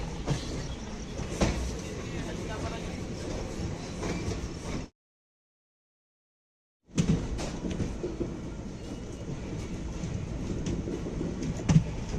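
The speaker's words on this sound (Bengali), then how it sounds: "আমাদের ট্রেন রক্সোল স্টেশন ছাড়লো" Raxaul Howrah Express train running after leaving Raxaul station, a faint continuous rattle and rumble of the moving carriage with occasional knocks, broken by about two seconds of dead silence midway before the noise resumes.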